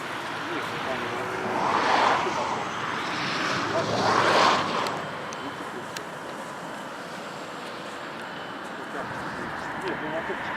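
An FPV model aircraft with a small motor buzzes past twice, swelling loud around two and four seconds then fading into wind-buffeted background, with people talking nearby.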